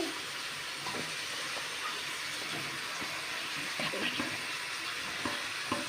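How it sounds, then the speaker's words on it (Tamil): Chicken pieces frying in a pan with ginger garlic paste for chicken gravy, giving a steady, close broadband sizzle that holds evenly throughout, with a few soft stirring clicks and no talking. "சிக்கன் போட்டு நம்ம இதை நல்லா பார்த்துக்கலாம்."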